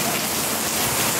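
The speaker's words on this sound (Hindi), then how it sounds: "और बारिश कितनी तेज आ गई, और ये देखो पूरे बरामदे में हो गया पानी पानी।" Heavy rain pours onto a veranda in a steady, loud, unbroken hiss with no voices.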